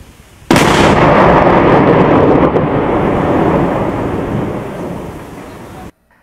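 A 500 kg World War II vintage bomb detonates in a loud, sudden blast, then a long rumbling roar that slowly fades over several seconds before cutting off.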